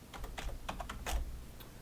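A zip code being tapped out on a computer keyboard: a quick irregular run of key clicks, close and crisp, with no talking.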